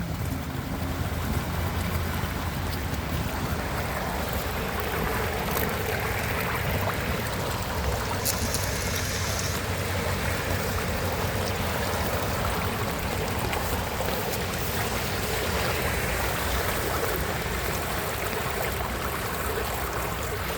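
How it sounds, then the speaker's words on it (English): Floodwater rushes steadily into a clogged drain in a flooded parking lot, forming a large whirlpool, a continuous loud gushing and churning roar with some wind buffeting, lasting throughout without speech. "Look at that water flowing"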